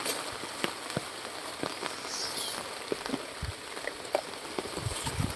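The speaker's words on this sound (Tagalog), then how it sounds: "and now it's raining hard" Heavy rain falling outdoors in the countryside in windy weather, a steady soft hiss of drops striking surfaces with scattered louder patters, fairly faint and without talk.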